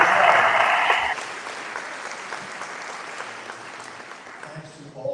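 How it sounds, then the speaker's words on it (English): Audience applause at the National Teacher Hall of Fame induction ceremony, loud at first and then settling into a steadier, softer patter of clapping that carries on to the end. "or just get a round of applause?"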